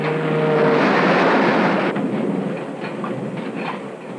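A speeding mail train runs past in a 1956 rail scene, a loud, steady rushing roar with a fading whistle tone early on, then softer clattering rumble as it continues.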